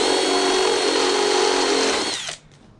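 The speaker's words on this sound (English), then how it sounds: "So with a stepper drill you can go to the next step." Step drill bit grinding steadily through the metal enclosure of a guitar pedal, a loud continuous high whine that cuts off abruptly near the end, with no talk.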